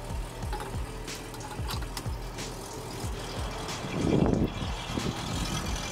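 A 1966 Ford Mustang engine idles steadily after starting, a low continuous rumble with rhythmic pulsing throughout, up close, with a brief louder swell near the end and no talking.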